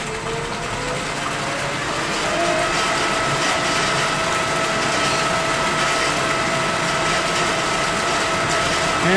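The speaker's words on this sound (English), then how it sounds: "we can go to our controller and turn our pump back on" A lab pump drives water through parallel pipes in a fluids lab, giving a steady, continuous mechanical whir and hum with a faint tonal whine, loud and unbroken throughout.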